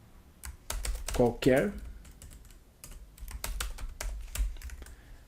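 A computer keyboard clatters in uneven bursts of close, crisp keystrokes as text is entered during a VBA macro lesson, with a brief spoken word partway through.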